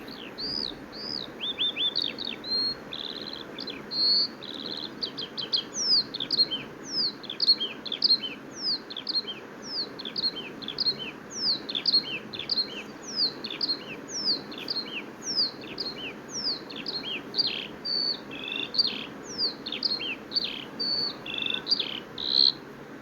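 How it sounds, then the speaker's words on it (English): A lark sings a long, continuous run of high chirring, buzzing and trilling phrases, fairly near and steady over a quiet, faint background hiss. "Larks sing melodious sound of chirring, buzzing and trilling. Observe and listen the sound made by lark in a few seconds."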